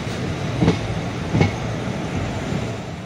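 A passenger train travels overnight on the rail route to Kanyakumari, heard from inside the carriage as a steady rumbling roar with two distinct clacks of wheels over rail joints.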